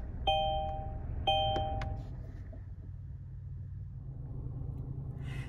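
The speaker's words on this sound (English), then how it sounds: "all you have to do is put your foot on the brake, press this button, and you're ready to drive" Two chimes ring out when the brake is pressed and the button pushed, then a car engine cranks and settles into a low steady idle rumble that runs to the end.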